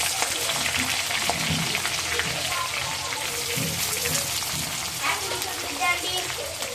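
Onions for an Andhra-style fish curry sizzle and sauté in a pan, a steady broadband crackle under a continuous frying hiss throughout, with a few brief clatters.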